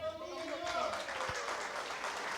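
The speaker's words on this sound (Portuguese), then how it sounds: "Uma salva de palmas, Senhor." Congregation applauding during a family celebration service at an Assemblies of God church, a soft, steady wash of clapping from many hands heard at a distance, faint, with a sustained voice or tone underneath.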